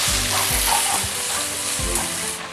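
Ham sizzles in a pan for a cheesy chicken carbonara, a steady close hiss of frying with a few soft low knocks, like stirring, and no voices.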